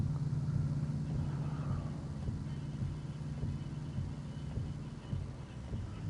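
A vehicle drives on wet, snowy roads in Farming Simulator 22, a steady low engine hum and road rumble holding at an even level throughout.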